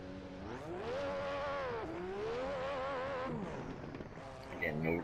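A race car with no traction control in the racing game Assetto Corsa, its engine note climbing and dropping through gear changes in a loud, continuous drone heard on a replay, with a brief rougher burst near the end.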